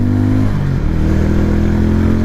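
Harley-Davidson X440 motorcycle, built in collaboration with Hero, revving and accelerating on a top speed run, its loud, steady engine and exhaust note rising as the gears shift, close and continuous.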